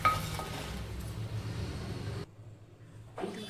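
Fried Guntur chillies tipped from a pan onto a plate while making coconut chutney powder, a short clatter of cookware and light clinks, then a brief hush before more handling.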